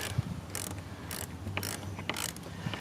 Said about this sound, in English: while ratcheting down